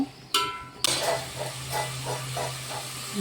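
Green chillies, tomato and onion hitting hot oil and sizzling in a pan as they are stirred, a steady close hiss with a sharp burst at the start and soft scraping strokes.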